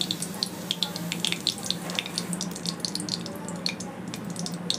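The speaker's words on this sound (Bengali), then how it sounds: "পেঁয়াজগুলো দিয়ে দেবো গরম তেলে।" Onions dropped into hot oil for a Bengali kochur loti dish, giving a steady close sizzle and crackle with scattered pops, no talking.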